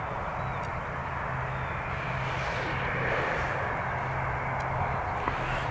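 An ATR turboprop taxiing at Dublin Airport, a steady droning engine hum with a low tonal whine, held evenly at moderate distance without a break.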